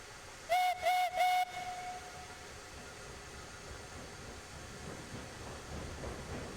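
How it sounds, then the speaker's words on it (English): A steam locomotive in Railroads Online gives three short, sharp whistle blasts, then keeps chugging along with a steady low rumble and wind noise, with no talk. "So we'll have a little bit of train running here at the beginning"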